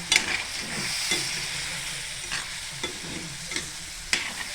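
A spoon stirs paneer keema in a sizzling pan, with a soft steady frying hiss and periodic scraping knocks roughly every second.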